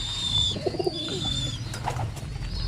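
Pigeons coo softly in a loft with young birds, with a short burst of low cooing notes over faint background bird chirps and ambient noise, no talk.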